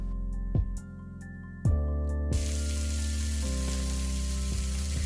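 Grated paneer, salt and spices sautéing in a pan while being mixed, with a steady close sizzle and frying hiss that swells louder partway through, plus a few soft scrapes and knocks of stirring.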